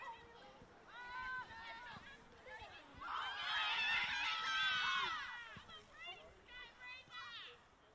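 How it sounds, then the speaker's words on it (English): Crowd at Cook Square Park during a women's NPL football match between Maitland FC and Charlestown Azzurri swelling into loud cheering and shouting, peaking midway before easing, with excited voices throughout. "Crowd coming to life here at Cook Square Park."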